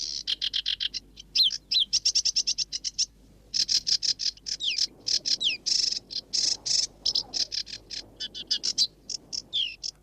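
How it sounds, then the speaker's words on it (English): A sedge warbler sings a long, rapid run of scratchy chattering phrases and bright whistled notes, near and loud, broken by brief pauses, with faint background hiss. "such as this sedge warbler, by its song alone"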